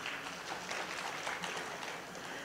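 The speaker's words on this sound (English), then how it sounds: "Give applause to Professor Sukoso." A summit audience gives steady applause for Professor Sukoso, a faint, distant wash of clapping in a large hall that continues evenly with no pauses.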